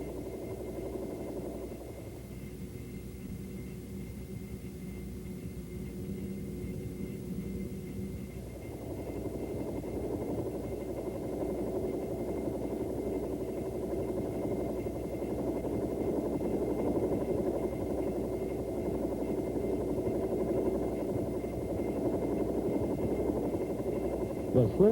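A Bell AH-1 attack helicopter in flight makes a steady, continuous rotor and engine drone that swells slightly over time. A voice narrates over the drone.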